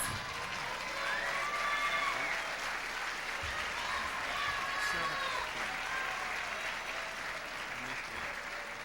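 Sustained applause from the audience at the Miss California USA 1997 pageant, greeting the top 10 semifinalists: a dense, even wash of clapping that stays strong throughout with faint crowd murmur.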